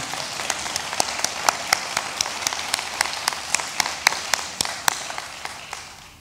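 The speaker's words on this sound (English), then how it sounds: "let's give a round of applause to Sydney" Sparse, scattered handclaps from a small audience at an awards ceremony, the individual claps distinct and fairly close, continuing steadily for several seconds with no talk over them.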